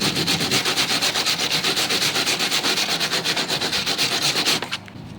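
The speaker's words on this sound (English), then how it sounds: "Make sure you clean out all the rust as you can out of here" Rust being scraped out of holes in a car body, a steady, close rhythmic rasping at an even back-and-forth pace that stops abruptly near the end.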